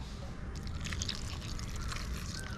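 Blended sour curd is poured onto dried chillies, a faint wet trickle and splash of thick liquid with soft spattering bursts, alone and fairly quiet.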